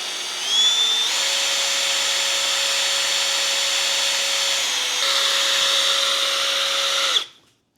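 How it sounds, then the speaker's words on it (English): Power drill spinning a baitcaster fishing reel to respool line, a steady whirring motor whine with a slight pitch shift midway, running alone for several seconds before cutting off abruptly. "Make sure my drill's not getting too hot, because I don't want to burn my drill out in the process."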